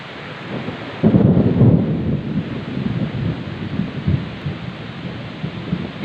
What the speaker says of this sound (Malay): Ini sudah turun hujan lagi.